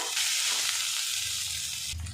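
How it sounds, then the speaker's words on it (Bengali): Eggs frying with spices, ginger and garlic in a wok, a steady close hiss of sizzling oil over a few seconds, no voices. "মশলার সাথে ডিম কড়াই কিন্তু বেশ কিছুক্ষণ ভাজা ভাজা করে নিয়েছি"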